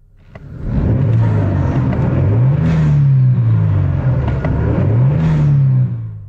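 A Kia Stinger GT 3.3 V6 twin-turbo engine in sport mode revs loudly nearby, its pitch climbing and falling in two distinct surges over a deep rumbling base.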